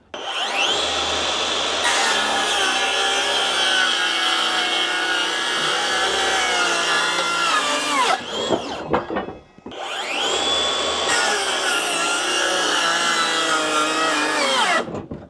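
A SKIL 3571XP cordless circular saw on a 5 Ah battery whines steadily through a 40 by 200 wooden board in two long cuts, the motor pitch sagging under load, with a short pause between.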